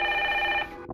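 A telephone rings in the audio game Evidence 111: a single bright electronic ring burst, close and clear, cutting off just before a faint movement sound.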